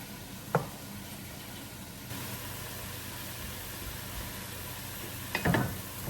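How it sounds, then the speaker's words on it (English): Chopped onion, carrot and celery sauté in olive oil in a soup pot, giving a steady, soft sizzle that hisses on throughout, broken by a couple of brief clinks near the start and end. "in olive oil, we're sauteing the chopped onion, the carrot, the celery, and any vegetables you decided to add"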